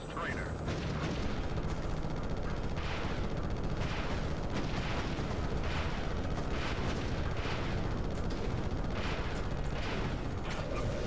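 Missiles firing and exploding in the Ratchet & Clank video game, a dense, steady barrage of booms and blasts with rhythmic launches, loud and continuous while someone talks over them.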